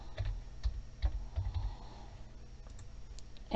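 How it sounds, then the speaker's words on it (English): Fingers tap steadily on a computer keyboard, a quiet run of close, uneven clicks and keystrokes with short pauses and no voices. "I will just type anything here"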